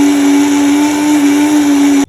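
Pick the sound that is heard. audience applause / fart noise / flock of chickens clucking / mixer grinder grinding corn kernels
mixer grinder grinding corn kernels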